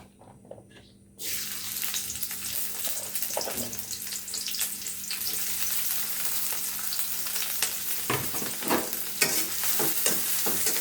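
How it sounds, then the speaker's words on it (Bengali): Onions and green chillies fry steadily in hot oil in a pan, a continuous close sizzle with scraping stir sounds, starting after a quiet second. "লাল লাল করে ভেজে নিচ্ছি পেঁয়াজটা"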